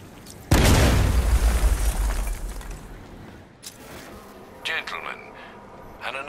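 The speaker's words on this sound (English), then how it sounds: "applied the explosive directly to destroy that wall" In the Batman Arkham Knight video game, an explosive charge blows apart a wall with a sudden loud blast and a rumbling, crumbling tail. Fainter clicks and mechanical game sounds follow.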